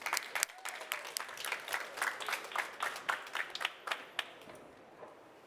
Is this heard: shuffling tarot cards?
no